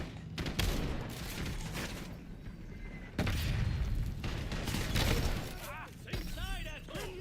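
Gunfire in Call of Duty Black Ops 7 during a Machine of War event, heavy bursts of shots and booms in two dense waves with a brief lull between, and a voice talking over the din.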